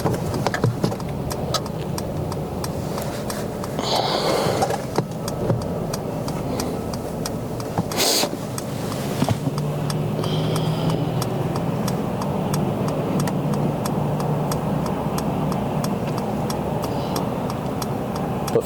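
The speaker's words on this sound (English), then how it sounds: "we are just sitting in the middle of traffic" A car sits idling in stopped traffic, a low, steady engine hum inside the cabin with a regular ticking, likely a turn signal, and occasional brief bumps and rustles.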